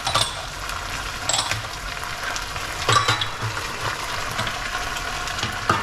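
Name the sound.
pineapple sauce sizzling and thickening in a pan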